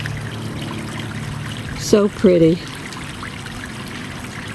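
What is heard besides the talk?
small waterfall trickling into a koi pond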